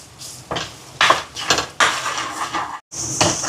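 A spoon stirs pepper, cashews and coconut roasting in a pan, a close run of loud scraping and clattering strokes against the metal with one brief pause, no talk.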